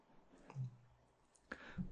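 Computer mouse clicks on an upload button, two or three quiet, close clicks spaced about a second apart against near silence.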